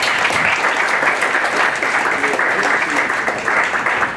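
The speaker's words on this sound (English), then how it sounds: "If you guys can give them a big round of applause for them." Sustained, loud applause from an audience at a MobileMonday NYC tech meetup, thanking the sponsors StrongLoop and Samsung Accelerator; dense, steady clapping fills the whole stretch without letup.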